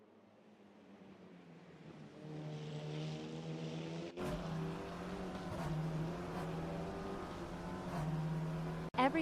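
Volkswagen Polo race cars in the SMSA Polo Supacup charge around the track on the first lap, a steady, close engine drone rising and falling in pitch as the cars rev and pass, with a sharp change near the end.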